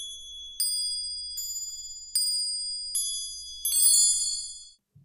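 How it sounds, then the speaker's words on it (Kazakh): A Kazakh folk bell, a small percussion instrument, rings out in separate bright metallic strikes, five or six clear dings with long ringing decay, the last few clustered together, heard alone in a quiet room. "Аспап – қоңырау."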